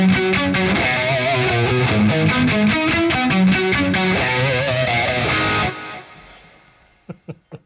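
Distorted electric guitar through the PolyChrome DSP Nunchuck amp plugin, a loud dense chugging riff in Eddie Van Halen style with rhythmic palm-muted hits. It stops abruptly and is followed by a few short sharp stabs.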